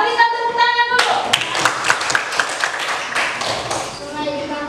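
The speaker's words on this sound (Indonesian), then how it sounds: "berikan tepuk tangan dulu" A classroom of children applauds a student who read aloud, a burst of dense clapping that rises suddenly and fades. A voice speaks just before and after it.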